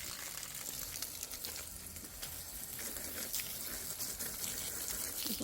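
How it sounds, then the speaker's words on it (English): Water pours and splashes steadily as tomato plants are watered on a homestead, a continuous hissing gush that stays fairly faint throughout. "so I'm gonna go ahead and water them."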